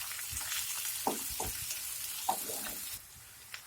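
Chopped medium onion sizzles steadily in hot oil, with a few scraping stirs close by.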